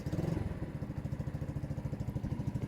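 A 2021 BOOM BD125-2 125cc motorcycle engine idles just after starting on half choke, a quiet, even thumping putter with a steady rhythm.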